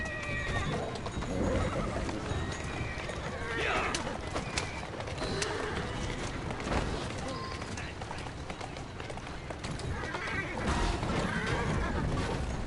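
In Assassin's Creed Syndicate, a carriage horse whinnies amid galloping hoofbeats and clattering, with other game sounds and voices mixed in.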